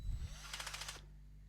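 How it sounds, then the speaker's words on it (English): A DeWALT cordless drill's clutch kicks in, giving a quick burst of rapid ratcheting clicks lasting about half a second before the spinning stops, close but fairly quiet, with no talk over it. "That's the clutch kicking in and stopping your drill from spinning anymore."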